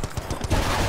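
Sniper rifle fire in Battlefield Bad Company 2, a burst of sharp, punchy gunshot cracks close together in the first half, then a louder rolling rumble of battle noise.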